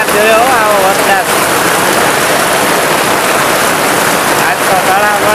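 Heavy rain pours steadily in a village at Botad, a dense continuous roar close by, with a voice talking over it near the start and end.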